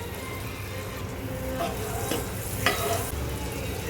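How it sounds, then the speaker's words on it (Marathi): Butter and a little oil heating in a hot pan for Mumbai-style pav bhaji, giving a steady close sizzle with light stirring and a couple of brief scraping bursts, no voices. "पॅन गरम झाला आहे। आता आपण ह्यामध्ये बटर घालूया, थोडंसं तेल"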